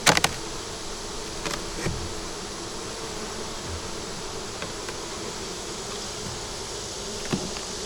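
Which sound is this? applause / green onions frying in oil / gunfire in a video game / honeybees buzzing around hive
honeybees buzzing around hive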